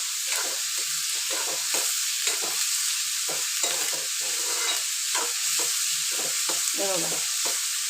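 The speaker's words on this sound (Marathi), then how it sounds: "चांगलं भाजायचा कांदा" Chopped onions frying for a Maharashtrian prawn masala (kolambi masala), sizzling continuously in a pan while a spoon stirs them with repeated scraping strokes, close and fairly quiet, with no voices.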